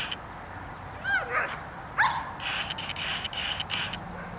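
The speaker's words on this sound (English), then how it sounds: "Got a barking dog right now." A dog barks and whimpers outdoors in the distance, a few yips and bow-wows around the first two seconds over steady background hiss, then quieter.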